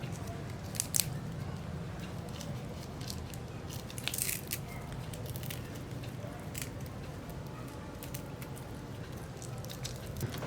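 Kitchen scissors snip two sprigs of curry leaves into a lentil and rice vada batter, giving a run of quick, close clipping sounds over faint background noise, with no talking.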